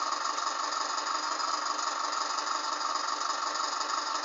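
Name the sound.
tractor engine in Farming Simulator 2009 video game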